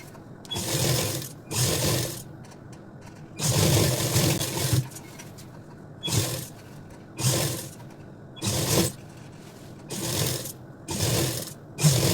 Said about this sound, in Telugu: ఇప్పుడు ఇది ఫ్రంట్కి వచ్చేలాగా చూసుకుని స్టిచ్ వేసుకోవాలి